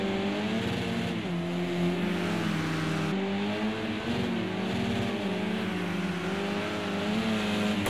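A Mercedes touring car in a BTCC sim race at Oulton Park drones steadily at high revs, its engine tone rising and dipping slightly through gear changes, loud and close with no voices.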